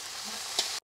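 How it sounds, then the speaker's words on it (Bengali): Chillies crackle in hot oil with a steady, loud sizzle and one sharper pop before the frying cuts off abruptly. "লঙ্কা ফাটিয়ে নিচ্ছি, দিয়ে দেবো লঙ্কা"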